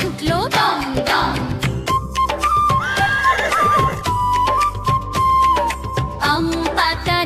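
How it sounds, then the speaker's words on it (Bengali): A horse neighs in a loud, shrill, wavering whinny over a bouncy children's rhyme backing, with a second whinny rising in the middle and faint hoof-like clops mixed into the music. "ঘোড়া ছুটলো দম দম"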